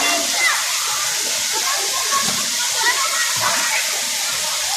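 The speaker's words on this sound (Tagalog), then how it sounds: "Ito yung mabilis na mabilis na tubig." Fast, rushing spring water at a resort pours continuously, a broad splashing roar nearby, with faint voices mixed in beneath it.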